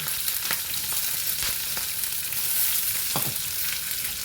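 Green chillies, garlic and onions sizzle in hot oil, a constant close hiss broken by a few soft stirring knocks, without any talking.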